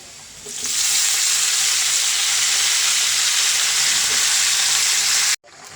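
Onion and pumpkin greens hit a hot pan and sizzle loudly, a steady, close, hissing fry that holds for several seconds before cutting off abruptly.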